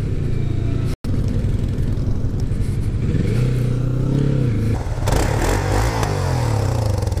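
A Kawasaki Vulcan S motorcycle with spark arresters removed from its exhaust idles and revs up loudly nearby, the engine note rising and falling, with a brief dropout and then crackling pops from the exhaust.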